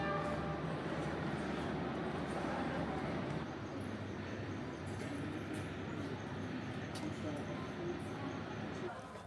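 Steady rumbling and rattling of a night train rolling along the tracks from Hanoi to Sapa in Vietnam, a continuous dense roar that eases slightly toward the end.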